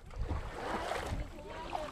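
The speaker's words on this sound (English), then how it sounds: "Got a rushing creek." Rushing water of a cold little creek in Texas, heard close and continuous as a broad steady wash with small gurgles running throughout, no voices over it.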